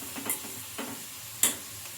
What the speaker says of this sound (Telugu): ఇవన్నీ వేసుకొని ఈ మసాలాలన్నీ పచ్చి వాసన పోయే వరకు అయితే ఫ్రై చేసుకోవాలి